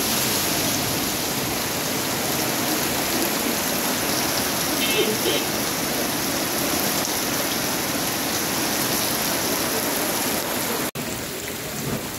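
Steady morning rain falling in Natore, a dense continuous hiss of drops on surfaces that stays loud and even throughout, with a brief dip near the end.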